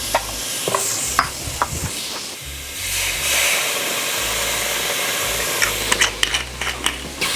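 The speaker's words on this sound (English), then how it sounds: "once it heats up, then we're gonna add some onions inside to kind of stir fry it" Onions sizzle and hiss in a hot non-stick pot from a BELLA cookware set while a utensil stirs and scrapes, with irregular clacks against the pan close by.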